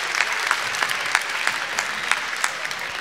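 Audience applause at a live children's concert show, steady dense clapping from a crowd with brief louder bursts, sustained across the whole stretch without speech.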